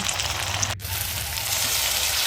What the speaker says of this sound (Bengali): এদিকে পেঁয়াজ কুচি দিলাম, পেঁয়াজ বাটা দিলাম